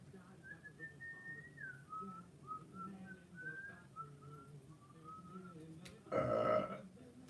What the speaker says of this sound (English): Burp on the live stream.